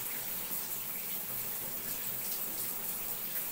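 Water runs steadily from a tap while a pet cockatiel is bathed, a soft, continuous hiss and splash with no talking.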